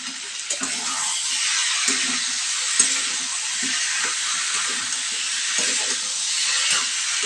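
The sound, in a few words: arum root and potato frying in a pan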